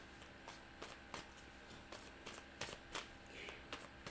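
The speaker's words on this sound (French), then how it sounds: "Je vais aller chercher une carte Rider-Waite." Cards drawn and shuffled from a Rider-Waite tarot deck, giving a series of light, papery flicks and slaps spaced irregularly across the moment, close and fairly soft.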